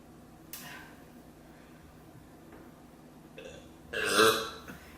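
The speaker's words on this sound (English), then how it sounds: "Don't you hate it when you have a burp and it doesn't come out?" A single short burp comes through close by during a mukbang meal of pot stickers and beer, with a faint click just before it over quiet room tone.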